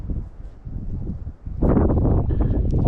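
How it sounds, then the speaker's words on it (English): Strong, cold wind buffeting a microphone on a fishing boat in the Florida Keys, low roaring gusts that rise sharply partway through and stay heavy and close. "It's super windy"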